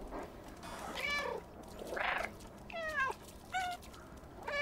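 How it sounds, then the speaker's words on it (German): Several cat meows in the video game Stray, spread across the clip as separate rising and falling calls, fairly close and clear over a soft ambient background with no talking. "Oh, ich liebe diesen Mauzen."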